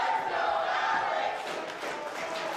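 A wrestling crowd cheering for Alex Zayne during his match against Warhorse Jake Parnell, a sustained roar of massed voices that holds steady and dips slightly partway through, with no clear commentary on top.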